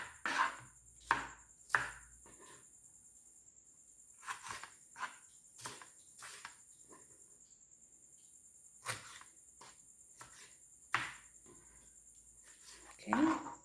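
A knife cuts salad vegetables on a board into bite-size pieces, giving sharp, separate chops spaced irregularly with quiet gaps between, close and fairly crisp, with a faint high insect-like whine in the background.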